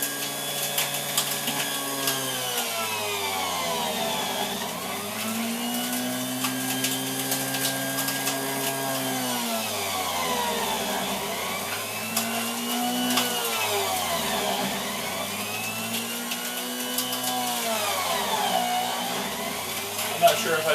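A Big Boss juicer motor runs steadily while kale is pushed through, a continuous loud whirring drone that repeatedly sags and recovers in pitch as the motor bogs under the load.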